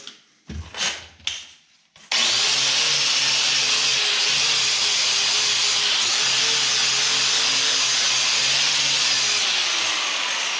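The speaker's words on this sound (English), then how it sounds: "I've got a wire wheel on my grinder, and I'm just using some simple green." A wire wheel on a grinder spinning against a surface sprayed with Simple Green, starting after a few short bursts and then running continuously, loud and harsh with a steady whirring drone.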